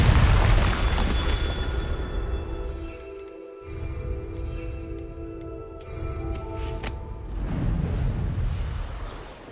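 Confringo explosive spells in Hogwarts Legacy go off repeatedly as booming blasts under a steady game soundtrack, with crackling bursts and a brief hush midway.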